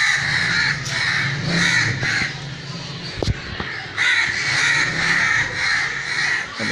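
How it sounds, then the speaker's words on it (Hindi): Many crows caw loudly and repeatedly all around a kite perched outdoors in Pakistan, a dense, overlapping chorus of harsh calls with a sharp thump partway through. "चारों तरफ कौवे आते जा रहे हैं।"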